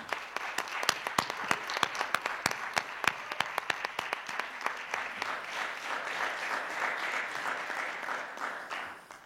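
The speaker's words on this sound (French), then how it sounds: "j'aimerais que vous m'aidiez à applaudir Valérie, Diana et toute l'équipe qui a monté ça" At a film lecture, an audience applauds the organising team: scattered sharp claps at first, quickly swelling into a steady roomful of applause that stops abruptly at the end.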